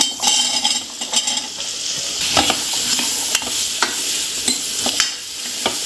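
Raw mango pieces with salt and chilli powder sauté in a hot pan, giving a steady bright sizzle broken by regular scraping and clinks from a stirring spoon against the pan.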